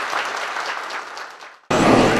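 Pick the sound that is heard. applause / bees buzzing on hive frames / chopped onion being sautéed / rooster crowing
applause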